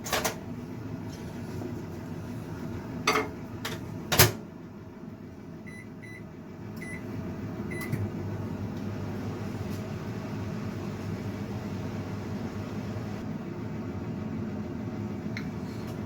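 A microwave oven heating a frozen Asda beef roast dinner at 700 watts, a steady low hum and fan drone that runs on, with a few clicks and thumps near the start and faint beeps.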